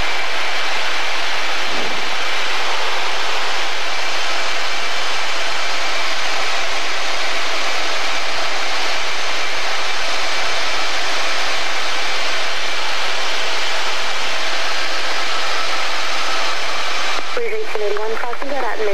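Blue Angels jet airplane in flight, a loud, constant broadband roar filling the cabin without letup, with a brief voice near the end.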